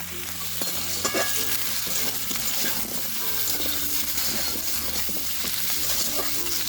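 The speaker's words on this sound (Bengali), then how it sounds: "এখন দিয়ে দেব গাজরের টুকরোগুলো একটু নাড়িয়ে চাড়িয়ে ভেজে নিচ্ছি।" Carrot pieces frying in a pan for a homemade chicken stew, a steady close sizzle broken by the scrape and rustle of repeated stirring, with a low hum running underneath.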